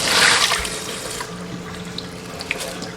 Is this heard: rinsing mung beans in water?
yes